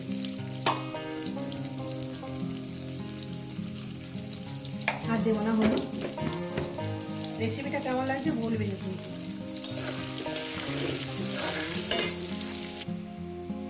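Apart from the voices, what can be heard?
potatoes frying and being stirred in a pan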